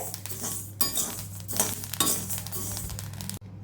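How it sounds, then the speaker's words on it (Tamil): Ration rice dry-roasted in a pan and stirred with a metal spoon, giving dense rattling, scraping and clinking in several bursts, close and fairly loud, ending abruptly. "நல்லா வறுத்து பொரி அரிசி ஆக்கிக்கிங்க"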